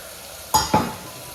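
Tomatoes dropped into a pan of frying onions and vegetables, producing two quick loud bursts of sizzle close by, each fading fast, with no speech.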